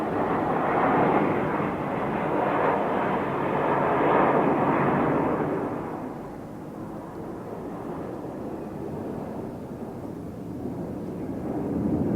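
Red Arrows jets roar past during an airshow display at Eastbourne, a loud broad rushing engine sound that peaks early, fades as the aircraft pass, then swells again.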